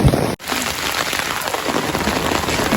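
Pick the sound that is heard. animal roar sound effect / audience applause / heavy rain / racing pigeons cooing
heavy rain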